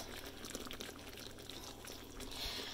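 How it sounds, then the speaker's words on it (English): Pork chop drippings pour into a pork chop mixture for cherry balsamic pork chops, a faint, continuous liquid trickle heard close and alone. "And so I'm going to add that into my pork chop mixture."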